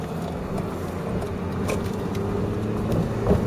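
A car passes on a street outside a busy movie theater, its steady road rumble and tire noise swelling slightly toward the end, fairly close and continuous with no talk over it.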